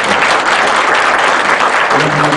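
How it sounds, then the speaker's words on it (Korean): An audience at a public humanities lecture held at the Changwon court applauds a professor, a dense, even burst of clapping that fills the room loudly throughout. "우리 김홍진 교수님께 다시 한번 큰 박수 부탁드리고요."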